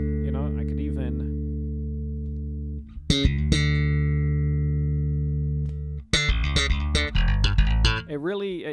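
Bass guitar played with the mids cut, sustained low notes ringing loud and long, with a short burst of talking at the start and playing and talk mixing toward the end.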